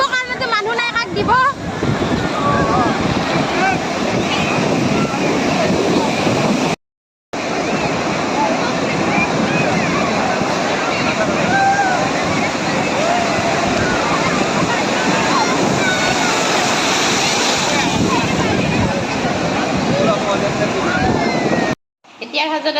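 Sea waves surging and washing onto the beach at Puri in a continuous loud roar, with wind buffeting the microphone and two brief cuts to silence.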